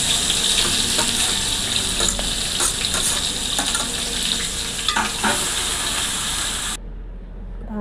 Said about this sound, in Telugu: టమాటాలు అయితే వేసుకుంటున్నాను.